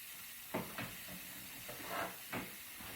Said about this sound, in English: you can hear me release the pressure